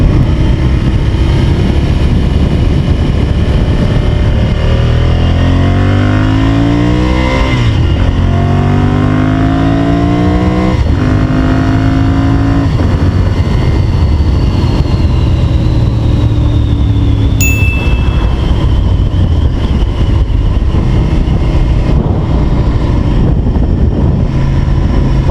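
A Ducati 796 Monster motorcycle engine running close by, a loud throbbing rumble that revs up and down several times, its pitch sweeping up with each blip before settling back to idle, with no talking.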